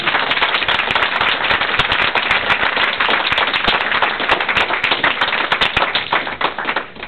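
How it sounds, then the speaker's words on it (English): An audience at a gathering thanking volunteers and staff breaks into sustained, dense applause: many hands clapping loudly and steadily for about seven seconds, fading slightly at the end. "We applaud you."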